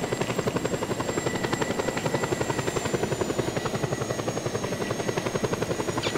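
A helicopter in the video game Just Cause 2 with a loud, steady rotor chop, fast pulsing blade thumps over a whining turbine hum, held close throughout.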